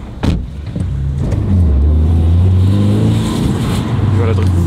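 A Toyota GR86 fitted with a new aftermarket exhaust system drives past outside, its engine note building into a loud, steady low drone over a few seconds while people talk nearby.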